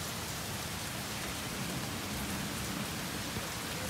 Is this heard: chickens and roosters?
no